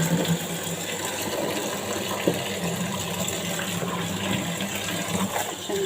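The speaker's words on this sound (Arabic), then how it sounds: "فاتحين المية اهي على المصفى، ننزل بقى بالفول" Tap water pours steadily into a metal strainer to rinse fava beans, a continuous close gushing splash with small shifts as the flow hits the beans.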